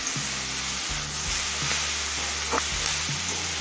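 Mashed broccoli leaves fry over a medium flame, giving a steady close sizzle with a low hum beneath and an occasional soft scrape, with no voices.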